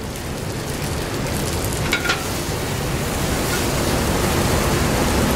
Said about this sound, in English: Green beans have started to sizzle over here.